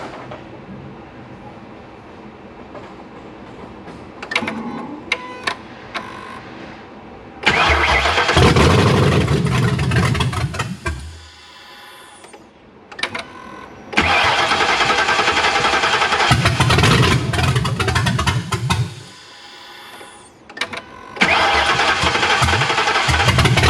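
A Ford Crown Vic with a swapped 7.3L Godzilla V8 cranks and fires, roaring loud and close, then stalls into near silence and restarts twice, each run a rough, uneven idle with no talk over it.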